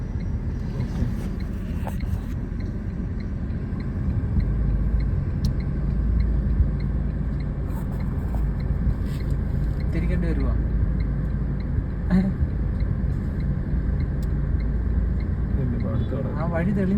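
A car reverses up a steep slope toward a house, its engine a low steady rumble that swells slightly partway through, under frequent talking.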